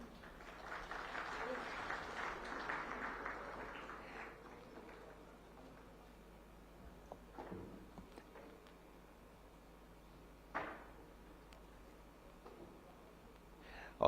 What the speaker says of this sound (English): A huge round of applause for him yet again.